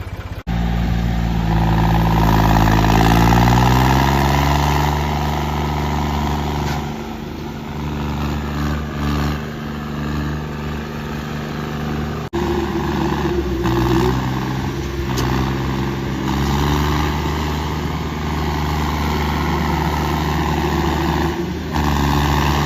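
A John Deere 5210 tractor engine runs close by, a loud steady diesel drone with a rising pitch early on, then settling into an even throb throughout.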